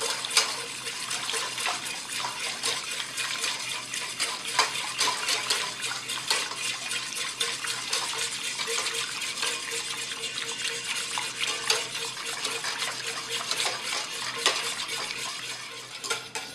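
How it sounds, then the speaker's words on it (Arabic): A liter of milk stirred into a roux to make béchamel for Moroccan-style minced meat lasagna, a continuous close scraping swirl of the spoon against the pan with faint liquid sloshing and no voices. "تنضيفو ليه لتر تاع الحليب بشويه وانا تنحرك. غادي نستمروا في التحريك ديالنا."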